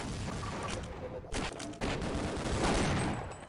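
Rapid gunfire from the video game Half-Life, with dense bursts of shots and a few louder cracks, continuing at moderate loudness across the clip.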